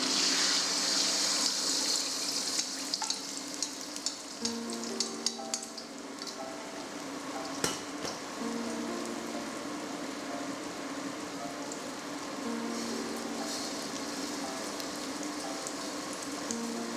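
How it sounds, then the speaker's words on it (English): Eggs fry in smoking-hot oil in a wok over medium-low heat, giving a steady close crackling sizzle with scattered pops and spatters throughout. "Add in the eggs."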